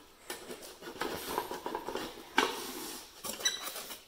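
Styrofoam packing squeaks and rubs in bursts as it is pulled out of a box salvaged from a store dumpster, with sharp shrill squeals in the middle and again near the end, fairly close.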